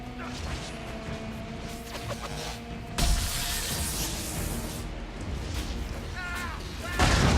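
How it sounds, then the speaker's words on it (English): Bombs explode in Dragon Age: Inquisition, with a loud, heavy blast near the three-second mark and another at about seven seconds, each standing out over a constant din of game battle noise. "so those are bombs."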